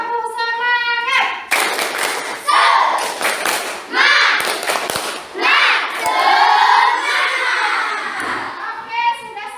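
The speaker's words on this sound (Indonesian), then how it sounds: "yuk kita tepuk semangat" A classroom of students performs a rhythmic Indonesian spirit clap, sharp hand claps and thumps in patterned bursts mixed with loud chanting and shouting voices throughout.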